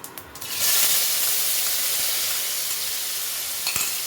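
Onion paste and green chillies sizzle loudly in a hot pan with whole cumin, dried red chillies and bay leaves, a steady bright frying hiss after a quieter start, with no talking.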